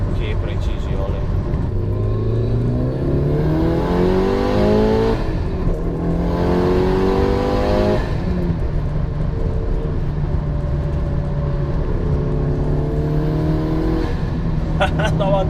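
A Mitsubishi Lancer Evolution VIII GSR rated at 380 hp revs hard through the gears, its loud engine note climbing in pitch, dropping at each shift and climbing again throughout.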